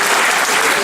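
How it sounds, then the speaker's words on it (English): Grade 11 students at a school gathering give a loud, dense round of applause, a continuous close wash of many hands clapping at once. "Can you give them the last round of applause?"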